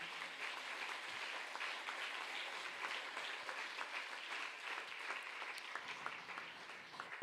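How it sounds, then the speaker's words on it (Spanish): A church congregation applauds during a Sunday morning service, sustained clapping with many individual hand claps audible, fairly faint and distant-sounding, continuing steadily for several seconds without talk over it. "Denle ese aplauso al Señor esta mañana."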